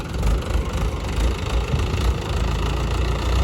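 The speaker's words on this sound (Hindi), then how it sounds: "अब ये जा रहे हैं ट्रैक्टर लेके अपना।" A farm tractor heads away from a freshly ploughed field in a village, its engine a steady rumbling drone with low vibration, fairly loud and unbroken, with no talking over it.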